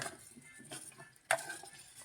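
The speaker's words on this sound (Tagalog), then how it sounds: "Kailangan kong haluin siya," Chayote is stirred in a cooking pot, giving faint scraping and clinking with one sharper knock of the utensil against the pot, over a soft background hiss.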